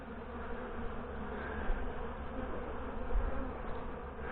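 Dense, steady buzzing of many honey bees swarming around queenless beehives in late summer, a continuous close drone with no speech.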